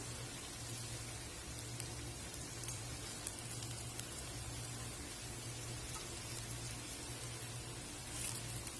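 Tapioca fingers deep-frying in hot oil, a steady, dense crackling sizzle at low level that continues unbroken without any pauses.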